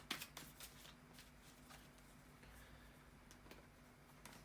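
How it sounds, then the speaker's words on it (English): Tarot cards being shuffled by hand, a quick run of crisp riffling flicks and soft card slaps, close and fairly quiet, with no talking over it. "bear with me for a second, guys, to shuffle the tarot cards"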